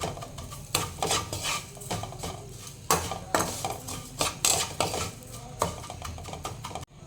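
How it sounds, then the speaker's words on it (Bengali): A utensil stirs and scrapes bread crumbs into a spice mixture in a pan, with repeated uneven clinks and scrapes over a faint sizzle and no talk. "এটাকে আমি পুরোটা মশলার সাথে ভালোভাবে মিশিয়ে নেব।"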